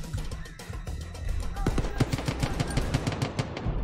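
A heavy gunner firing an M60 machine gun in the Far Cry 5 video game, a loud, steady stream of rapid shots that builds into a sustained rattling burst.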